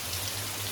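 Rain falls at a forest temple in Luang Prabang, Laos, while the sun shines, a brief steady patter of drops on surfaces with a low hum beneath.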